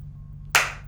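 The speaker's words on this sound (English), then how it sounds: "Give me a clap." A single sharp hand clap rings out over a low steady background hum, with a short decaying tail.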